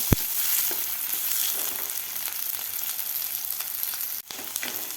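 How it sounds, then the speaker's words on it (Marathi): Onion frying in a pan until soft for chana masala, a continuous close hiss of sizzling oil with a few light clicks and a brief dip near the end. "तीन ते 4 मिनिट असा सॉफ्ट होईपर्यंत आपल्याला हा कांदा भाजून घ्यायचा आहे."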